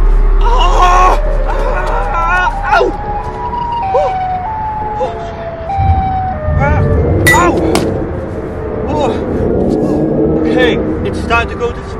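A wailing siren rises and falls through the clip, mixed with other noisy sounds and voices, fairly loud and close.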